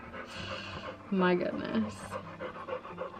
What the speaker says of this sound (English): He's the slobberiest dog.